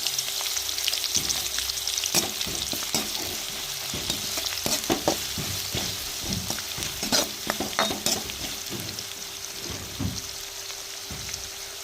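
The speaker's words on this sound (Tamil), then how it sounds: "வெங்காயம் வெள்ளைப்பூலாம் வதங்கி வந்துருச்சு" Chopped onion, crushed garlic and curry leaves fry in oil for a crab dish, a constant crackling sizzle broken by frequent clattering stirs that cluster in quick bursts.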